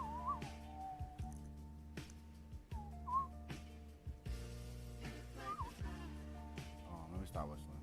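A person whistles a wavering tune in short bursts, faint and mixed under background music and talking.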